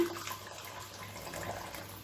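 Water that rice was soaked in is poured into a pot of cooking mutton, giving a soft, steady splash and trickle that stays faint and close for about two seconds.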